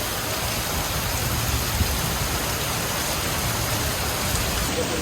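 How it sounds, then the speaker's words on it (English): Steady, dense rain pours down at a small bus station in Sri Lanka, a continuous close hiss of drops on surfaces with no voices and no breaks. "because it started to rain a little bit, and I was like, it feels like it's gonna really rain"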